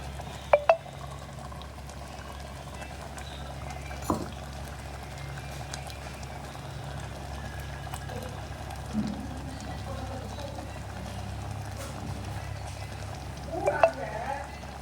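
Ground cashew and coconut paste is poured into a simmering dish while cooking. Soft, steady bubbling continues with a few faint clinks and thuds from the pot, and a voice is heard faintly in the background.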